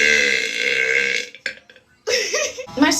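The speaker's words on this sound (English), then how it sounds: "Oh, I kind of make myself burp." A young woman's deliberately forced burp, a long loud belch lasting over a second, then a short pause, a brief croak and a second rough belch close to the mic.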